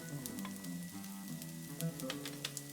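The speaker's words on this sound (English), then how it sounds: "I've added some olive oil to our cocotte. We're going to add our diced red onions." Diced red onions sizzle in olive oil inside a cocotte, a continuous soft crackle with light tonal hum from the pot, quiet and close.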